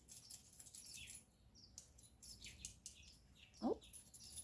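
Hummingbirds and finches flutter their wings with a soft, steady rustle, joined by scattered high chirps and one louder, sharper call near the end, all fairly close.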